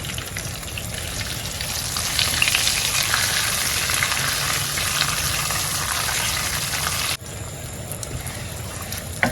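Bay leaf and curry powder fry in hot oil for a tilapia egg stew, giving a steady, close, even sizzle that runs unbroken with a brief dip near the end.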